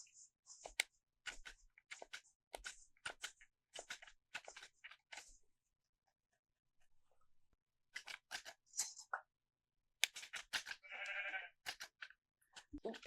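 Shearing a sheep's wool in Minecraft gives a series of crisp snipping clicks in uneven bursts, with a pause in the middle and a short bleat near the end, close and fairly quiet.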